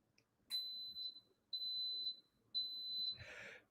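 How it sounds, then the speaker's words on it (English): An electric pressure cooker cooking rice gives three loud, high, steady beeps at regular intervals of about a second, close by, followed by a brief clatter. "The beep means that it is starting to heat up."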